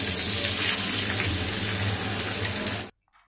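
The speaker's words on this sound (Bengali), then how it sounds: "এবারে গরম গরম তেলটা এই মাংসের উপরে ঢেলে দিব।" Hot soybean oil poured onto minced chicken gives a loud, steady sizzle that runs for about three seconds and then cuts off abruptly.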